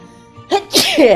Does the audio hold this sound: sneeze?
yes